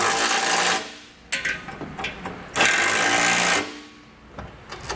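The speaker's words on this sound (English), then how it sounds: "We can now take a 15 millimeter socket and snug these down." A 15 mm socket on a ratchet snugs down the nuts on a hidden trailer hitch for a 2015 Honda Civic. It makes close, raspy bursts of ratcheting and turning, separated by brief quieter gaps.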